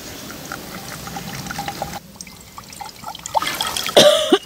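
Water poured into drinking glasses, a soft trickling stream over quiet room noise, with a brighter, louder splash and pour near the end.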